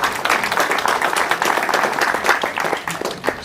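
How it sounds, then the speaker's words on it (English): A crowd applauds at the final of an East Khasi Hills T20 cricket league, a loud, continuous patter of many clapping hands that holds steady throughout. "So a big round of applause for them as well, please, dear friends."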